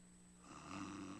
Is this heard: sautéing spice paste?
no